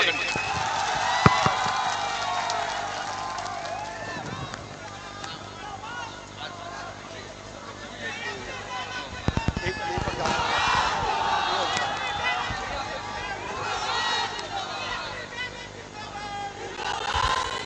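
Large crowd at an outdoor election rally in Paru, Muzaffarpur, cheering and shouting continuously, a loud dense roar with scattered claps and voices rising and falling throughout.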